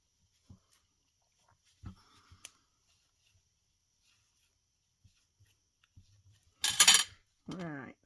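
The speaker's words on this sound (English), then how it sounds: "sorry about the noise. I use a glass worktop saver just because" Crochet hook and yarn tapping and scraping against a glass worktop saver, giving sparse faint clicks and knocks followed by two louder bursts of scraping near the end, with no talking.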